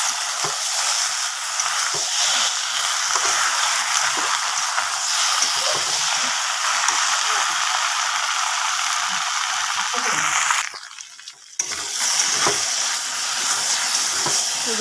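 Vegetables with turmeric and chili fry loudly in a pan, a steady close sizzle broken by scraping, clicking stirs, with a brief dip in the hiss near the end before it resumes.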